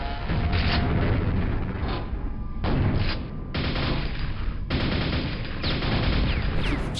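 Dense, continuous gunfire from the video game Quake, played on PC with Quakespasm, with rapid bursts and booming shots keeping up nearly without a break, loud and close, and short mechanical clanks between volleys.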